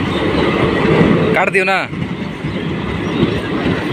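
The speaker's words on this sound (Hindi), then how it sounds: "हम लोग ट्रेन में बैठ चुके हैं" A passenger train running on rails between Daltonganj and Ranchi gives a steady rumbling roar with brief clatter, heard from inside a carriage while a person speaks briefly.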